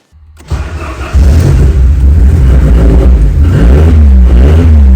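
A Ford Sierra Cosworth engine cranks briefly, catches and fires up loud and close, then settles into a steady rumbling idle with a slight rise in revs near the end.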